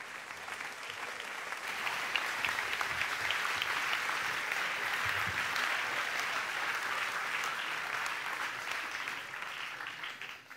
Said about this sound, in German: Einen lieben Applaus für einen guten Freund von mir.